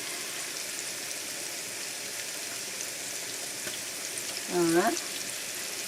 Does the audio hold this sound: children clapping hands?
no